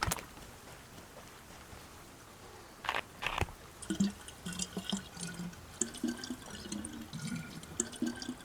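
Water trickling and gurgling into a bottle being filled in the DayZ Sakhal video game, in irregular soft pouring bursts after a few faint clicks, with no talking.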